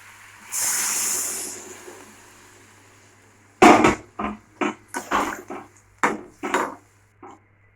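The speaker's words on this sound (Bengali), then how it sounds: "দিয়ে দেবো অল্প করে জল" A short hiss of water poured into a pot of simmering potato curry, followed by a run of close, separate clinks and knocks from the pot and utensils.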